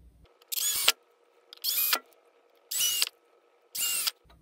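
Cordless drill drives screws into window blind brackets during a faux wood blind install, four short high-pitched whirring bursts with brief quiet gaps between them.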